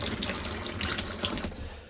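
Water runs from the tap of a Carado A464 camper van's onboard water system, a steady, close splashing hiss that continues without a break.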